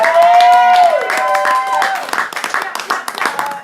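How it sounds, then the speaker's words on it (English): An audience at a poetry slam in Orlando applauds poet Tavis Brunson, a close, lively burst of clapping with a shout and voices over the start, then breaking into scattered claps. "Tavis Brunson, everyone, give him a round of applause."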